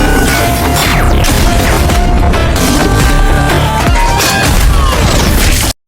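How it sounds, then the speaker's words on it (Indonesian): A loud gunfight from an action movie about a mall hijacking, with dense bursts of shots, crashes and impacts blended with a soundtrack, constant and heavy before cutting off abruptly. "Dan ketika peluru mereka habis, Fir pun mulai nembak balik, dan aksi tembak-tembakan pun dimulai."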